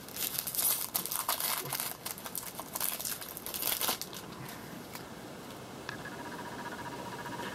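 A Magic the Gathering Kaldheim booster pack wrapper being torn open and handled, with loud crinkling and crackling of foil plastic in irregular bursts for several seconds, close up, then a softer rustle.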